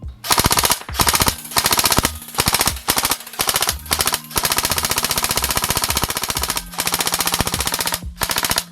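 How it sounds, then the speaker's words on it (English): Airsoft AEG rifle with very hard recoil firing close and loud, short bursts at first, then one long sustained full-auto string of rapid mechanical cracks, alone without speech. "here you will see a little video about an AEG with very, very hard recoil"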